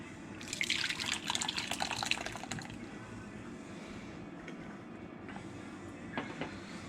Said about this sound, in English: Pour soup into bowl.